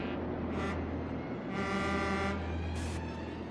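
Car horns sounding inside the burning Mont Blanc tunnel, several drawn-out honks over a steady loud rumble of engines and roaring background noise.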